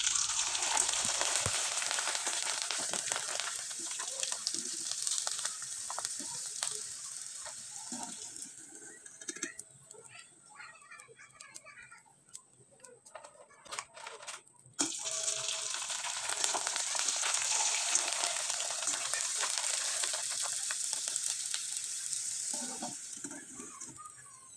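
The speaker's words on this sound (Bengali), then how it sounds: "একইভাবে আমি কয়েকবার ভেজে আপনাদের দেখিয়ে দিচ্ছি" Sago papad pithas fry in hot oil with a dense, hissing sizzle that fades and thins midway, then surges back loud and steady when more pieces go in, with no talking.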